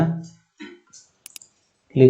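Two quick, crisp computer mouse clicks, made while building a photo album in Microsoft PowerPoint, land close together in a pause between stretches of someone talking.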